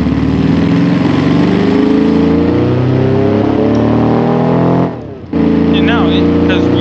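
A carbureted flat-four engine in a lightweight restomod sports car in the BeamNG driving game drones loudly and steadily with buzzing harmonics, briefly dropping out near the end before resuming, with a voice talking over it.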